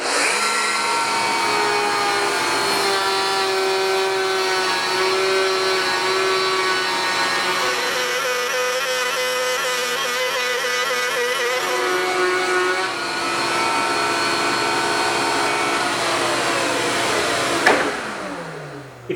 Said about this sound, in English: So I'm going to route the slot as before